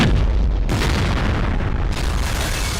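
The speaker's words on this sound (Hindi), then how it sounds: "देश की राजधानी दिल्ली में एक साथ कई जगह पर बम विस्फोट हुए हैं।" A bomb explosion in Delhi in a Hindi feature film booms out loud and heavy, its deep rumbling blast filling the scene with a brief sharp cut partway through before the roar continues.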